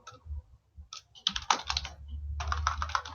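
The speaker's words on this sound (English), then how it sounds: "And continue typing" Keys clatter on a computer keyboard in quick, uneven bursts of typing with short pauses, close and fairly quiet.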